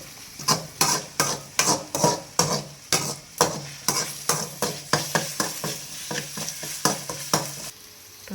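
Curry leaves sautéed in a pan, a rhythmic series of about twenty close scraping stirs with a spoon over a continuous sizzle, steady pace before stopping near the end.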